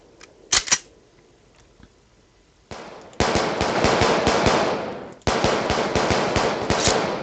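Video-game gunfire crackles in two long rapid automatic bursts, each lasting about two seconds, after a couple of isolated earlier shots and a quiet stretch.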